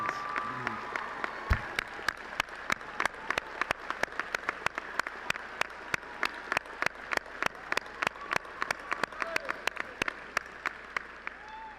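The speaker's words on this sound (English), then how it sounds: "Parents of our candidates, please stand and receive our applause." A commencement audience claps for the candidates' parents, a dense, steady patter of many hands sustained throughout at a moderate distance, with no speech over it.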